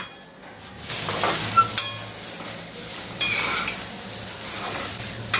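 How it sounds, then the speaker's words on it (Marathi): Rice rava upma being sautéed in a pan until golden, a soft steady sizzle with a spoon stirring and scraping, punctuated by a few light metallic clinks against the pan. "पण परतायचे आणि चांगल्या गोल्डन होईपर्यंत हे खमंग असं झालं पाहिजे."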